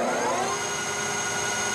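A lathe turns CrMo 4140 steel at a high 1120 RPM on a light cut, giving a steady, close machine whir with a thin high whine held throughout and no voices.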